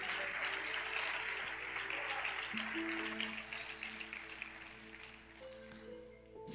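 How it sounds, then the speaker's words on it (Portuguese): Faint, steady applause from a church congregation fills the room at a distance, with sustained keyboard notes entering partway through and lingering beneath the clapping. "dá a salva de palmas para o Senhor"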